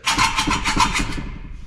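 A hacksaw used with incorrect technique makes harsh, rapid rasping strokes that chatter loudly and unevenly, like a blade skipping and grinding against metal, with no one speaking.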